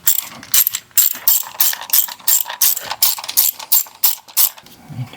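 Hand ratchet loosening spark plugs on a 2012 Ford Focus engine, a rapid series of crisp pawl clicks in short repeated bursts, about a dozen strokes, close and loud with brief gaps between pulls.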